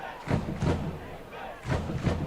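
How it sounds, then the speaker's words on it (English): Football crowd at a Bedford versus Nashua South high school game chanting "defense" in two rhythmic bursts, each with a pair of loud stomping thuds, from a moderately distant stand. "Crowd chanting defense."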